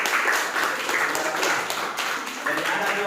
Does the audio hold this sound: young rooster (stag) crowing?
no